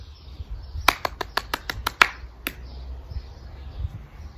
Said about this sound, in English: See how high you can throw the ball and how many claps you can get before you catch the ball.